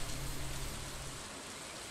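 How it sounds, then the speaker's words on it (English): Steady rain in the farming video game Stardew Valley, a continuous even hiss of falling drops that holds at a constant level throughout, with no voices over it. "Except it's raining"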